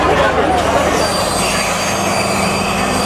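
A train runs on rails near Colombo Fort station, a steady loud rumble with rail noise and some wheel squeal throughout, no clear talk.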